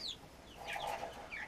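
Chickens in a backyard coop freshly bedded with hay and shavings give soft, scattered clucks and a few brief higher calls, faint and slightly distant in a quiet space.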